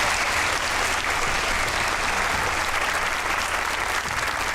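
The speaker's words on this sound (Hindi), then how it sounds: "ताली होनी चाहिए गिलानी साहब की" A studio audience at the TV comedy show Hasna Mana Hai applauds in a dense, continuous clapping roar that holds steady and loud from start to finish.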